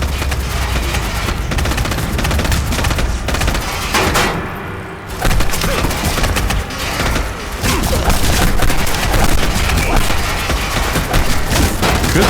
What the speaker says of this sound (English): Good sound effect, like having sound break up all crazy like this. Sounds like the game's broken.